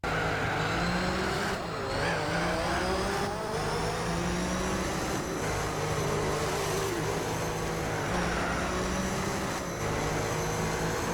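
Race cars in the PlayStation 2 game Gran Turismo 4 roar with engine whine rising and dropping through gear shifts, loud and continuous, with tires squealing under the engine noise and no voices.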